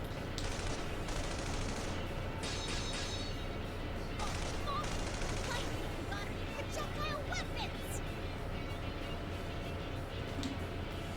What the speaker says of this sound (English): I am met with barricades and heavy artillery